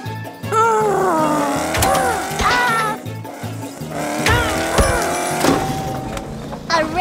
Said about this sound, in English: A race car isn't so fast in the jungle, Orphle.